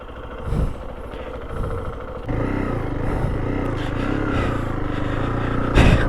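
A Zontes 350T motorcycle engine runs loud and close, rumbling and clattering steadily as it rides off-road, with the revs rising briefly near the end.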